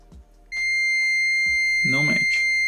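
A B-Side ZT5BQ clamp meter sounds a continuity beep, a sustained steady electronic tone that starts abruptly and holds to the end, while a voice talks briefly over it.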